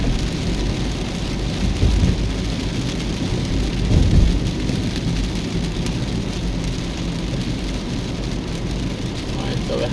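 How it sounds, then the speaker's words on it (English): Heavy rain drums steadily and loudly on a car during a drive in Kingston, Jamaica, from Waltham Park Road to Hagley Park Road. Low thunder rumbles beneath the constant downpour. "we're having some heavy rains right now"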